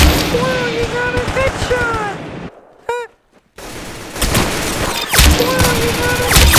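Bursts of rapid gunfire in a video game crackle loudly, then a brief quiet gap with a rising tone, and the firing resumes, with game effects mixed throughout.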